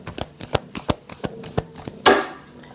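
Tarot cards are shuffled by hand in a series of crisp riffling slaps at an uneven rhythm, closing with a louder, longer riffle near the end, close and clear with no talking.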